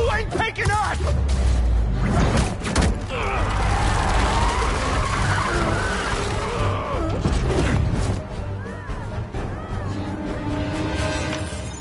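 Cars driving and skidding in the Spider-Man 2 video game on PS5, engines roaring with long tyre screeches and crash-like bursts, loud and close, with shouting voices over the action.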